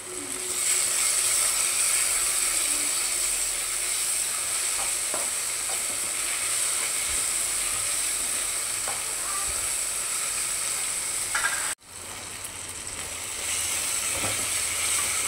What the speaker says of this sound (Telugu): కొంచెం అల్లం పేస్ట్ వేసేసుకుందాం.